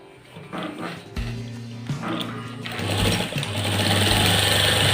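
A sewing machine hems the bottom edge of a shirt, starting with a few short bursts and then building into a steady, close, loud stitching run.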